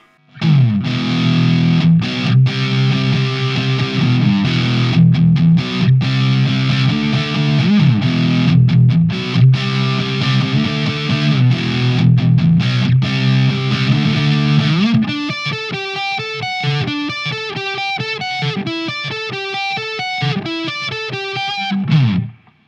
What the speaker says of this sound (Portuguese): A distorção é este som de rock mais clássico, esta sonoridade mais agressiva